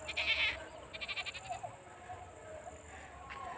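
A few goats bleat at a distance, short wavering calls over quiet outdoor background with faint voices.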